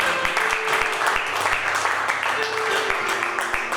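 A church congregation applauding and acclaiming the Lord, sustained loud clapping filling the room, with voices calling out among the applause.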